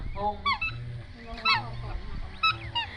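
Geese honk loudly and close in repeated bursts, roughly one call each second, with murmuring voices between them.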